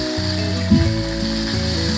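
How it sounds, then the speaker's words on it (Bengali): Onion and fish sizzle in a hot pan for taki fish bhorta, giving a steady frying crackle with a low hum beneath it and no talk. "তো আমি এই পেঁয়াজ আর মাছটা এখন সুন্দর নরম নরম করে সুন্দর করে ভেজে নেব"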